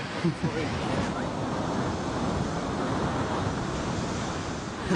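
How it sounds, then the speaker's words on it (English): Ocean waves surging strongly onto a California shore, a steady broad rush with wind buffeting the microphone, fairly faint and unbroken, with no clear voices. "you know the water comes in really strong."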